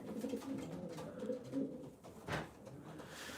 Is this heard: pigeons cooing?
yes